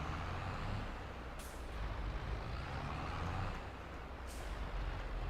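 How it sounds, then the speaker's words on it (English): A truck's air brakes in Farming Simulator 22 let out two short, sharp hissing releases a few seconds apart, heard over a steady low engine drone. "Sounds like it's got air brakes."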